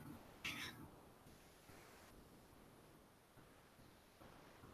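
A pet cat gives a brief meow near the start, then quiet room rustling follows with faint soft sounds and no clear talking.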